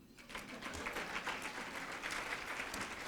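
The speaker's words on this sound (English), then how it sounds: "You may applaud again." A gala audience at a League of Women Voters centennial celebration claps in a steady, even patter of many hands, fairly faint and distant, continuing for the whole stretch.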